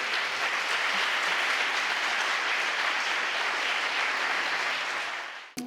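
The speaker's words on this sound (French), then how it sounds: "Je pense qu'on peut l'applaudir encore une fois." A lecture audience applauds the speaker again, a steady wash of many hands clapping at moderate distance that holds evenly and then fades out, cut off abruptly at the end.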